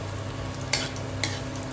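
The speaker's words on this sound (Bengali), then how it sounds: "বড়িগুলো একটু ভালো করে ভেজে নেব" Lentil dumplings (bori) frying in a pan: a soft, steady sizzle with two quick scraping stirs, quiet and close.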